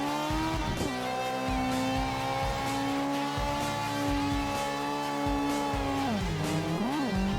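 Engine howling steadily at high revs with a tyre squeal while a car drifts in CarX Drift Racing 2, the pitch dipping near the end and then rising again in a quick blip; nobody speaks.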